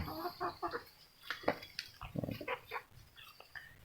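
Native Darag chickens cluck in short, irregular bursts at a backyard farm, the calls moderately close with some low rustling and chewing-like noise between them.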